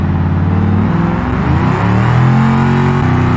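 A base-model Ford Crown Victoria with a two-valve-per-cylinder engine revving in the BeamNG driving game, a loud, steady close-up engine drone whose pitch sways and climbs over a few seconds, with no talk.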